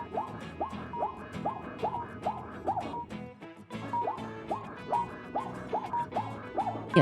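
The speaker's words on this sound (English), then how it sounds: "It's zebra." A zebra gives a repeated barking call, a steady series of sharp yelping honks. The calls pause briefly midway, then resume at an even rhythm.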